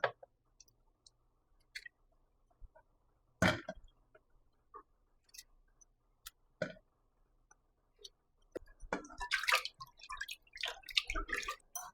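Strawberries being washed in water in a kitchen, with sparse drips and splashes that turn into busier sloshing and clicks toward the end, close and fairly quiet, with no talking.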